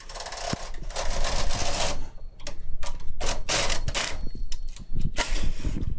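A Brother KA8300 transfer carriage is run along a knitting machine bed, shifting the stitches of a 2x2 rib: dense metallic clattering and ratcheting in bursts, close and loud, with brief pauses between passes.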